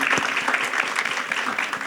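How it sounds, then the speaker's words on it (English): Audience applause at a One Summer Chicago press conference, a short, steady burst of clapping from a gathered crowd, fairly close and even throughout. "Let's clap it up for that."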